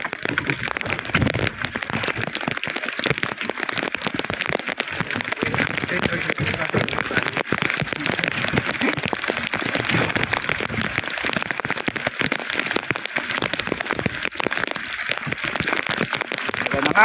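Heavy rain pouring down hard in a dense, unbroken hiss of countless drops striking surfaces, loud and close for the whole stretch with no letup.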